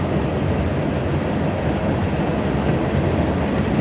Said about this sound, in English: It's loud because of the trains.